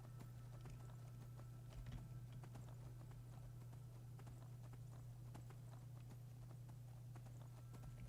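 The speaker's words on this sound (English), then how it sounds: "Shame the horse doesn't go faster." Horse hooves clip-clop in Skyrim, a fantasy video game, as a horse walks at a slow, even pace. The hoofbeats are faint and steady over a low constant hum, with no voices.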